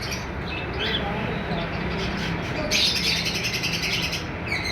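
A pair of common white breeder birds, likely small finches or budgerigars, calls with repeated chirps over a steady background din, with a brighter burst of chatter in the second half.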